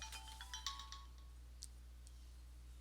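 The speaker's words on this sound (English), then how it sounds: "My phone's ringing." A phone ringtone chimes in a short series of bright, bell-like tones over steady low hum, then fades to a couple of faint, isolated pings toward the end.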